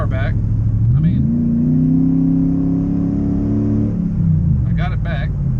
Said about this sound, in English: I'm driving the truck. I have no check engine light. I've got full throttle.